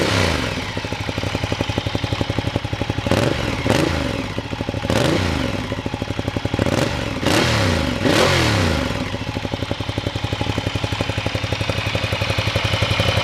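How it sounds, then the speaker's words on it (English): A motorcycle idles with a throaty, steady exhaust rumble, broken by several quick throttle blips that rise and fall sharply. "You really need to hear that exhaust in the flesh to appreciate how nice it sounds"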